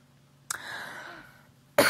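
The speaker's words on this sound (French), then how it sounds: "Je suis vraiment désolée, je tousse" A woman with a cold coughs, a short burst trailing into a raspy throat-clearing, then another sharp, loud cough close by at the end.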